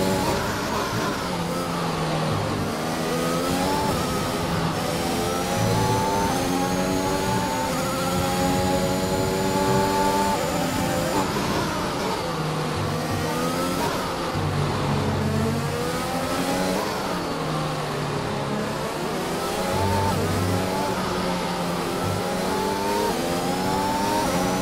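A race car engine in a racing video game, set in rain at a French circuit, revs up through repeated gear shifts with a whining drivetrain, loud and continuous.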